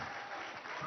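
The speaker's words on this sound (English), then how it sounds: "So big round of applause, please, for our stars." An audience at a live conclave event applauds, a faint, steady patter of clapping that continues for under a second.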